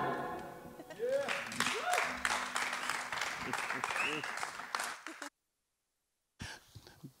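A live stage audience applauds warmly at a MAAS podium TV show, with clapping and cheers swelling over several seconds before a brief silence and a voice speaking.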